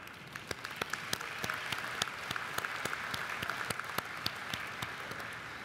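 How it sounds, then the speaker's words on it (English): Applause from a student veterans gathering crackles through the room, a dense, even wash of many hands clapping at moderate distance, steady throughout with a few sharper individual claps standing out. "Give it up for Cam."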